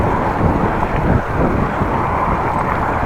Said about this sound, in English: A little bit of wind on the head